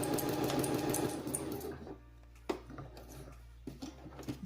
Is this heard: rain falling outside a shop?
no